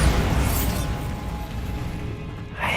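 A Bombarda spell is cast in Hogwarts Legacy, a deep booming explosion that fills the moment with a heavy low rumble and crackling debris, fading toward a brighter magical whoosh at the end.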